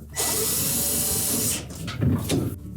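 A power screwdriver drives a single screw into the rear of a Whirlpool refrigerator's evaporator fan cover, a loud close whir lasting over a second, then brief rattling handling noises.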